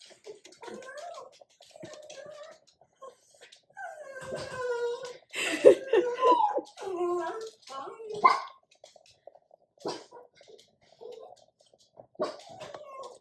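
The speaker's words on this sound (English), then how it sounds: "my dogs are too excited." Several dogs bark, yelp and whine in excited bursts, loud and close, with some human voices mixed in.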